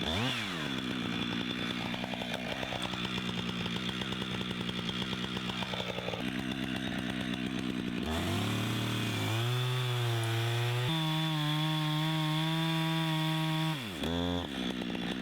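A chainsaw makes a felling cut in a tree, its engine droning loudly at high revs, then dropping in pitch, surging back up and easing off near the end, close by with no voices.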